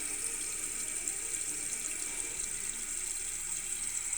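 Water from a Fluidmaster 400A toilet fill valve streams steadily into its tube, a constant hiss and gush with no breaks, fairly quiet and alone.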